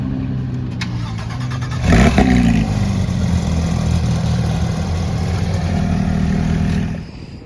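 A Porsche GT3 RS fires up at a car meet in Scottsdale: a sharp starter catch and loud bark, then a high, steady idle with light blips before cutting off near the end, close by with no talk.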